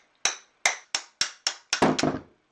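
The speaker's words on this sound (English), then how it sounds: "then you're going to tap the shaft out" A lump hammer taps the armature shaft out of an H2 Hummer windshield wiper motor in a workshop, giving six sharp, close metallic strikes spaced about a third of a second apart, the last few ringing into a rattle, with no talk.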